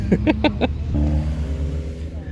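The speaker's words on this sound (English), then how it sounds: "filming the cars going on the track or into the car park" Cars on a race track passing near a car park, a steady engine drone building after a few brief sharp bursts, heard under background chatter.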